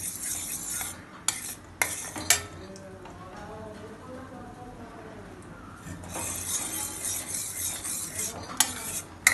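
A spoon scrapes and stirs a thickening coconut and milk mixture in a pan for coconut laddoos, soft sizzling underneath with sharp metallic clinks and scrapes at the start and end.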